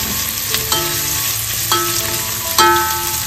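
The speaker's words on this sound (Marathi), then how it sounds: "आता याच्यामध्ये सर्व कांदे आपण घालून घेतोय. मस्त व्यवस्थित असे फ्राय करून घ्यायचे आहेत." Sliced onions frying in a pan of hot oil for chicken biryani, a steady broadband sizzle with a few sharp clinks and scrapes of a spatula stirring, close and fairly loud, no voices.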